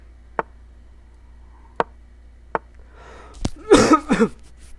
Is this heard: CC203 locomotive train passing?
no